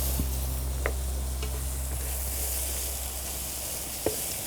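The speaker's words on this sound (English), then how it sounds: "we're going to fry this until it's fragrant" Garlic fries in oil over lowered heat for beef rendang, a continuous hissing sizzle with a couple of light utensil ticks under a steady low hum.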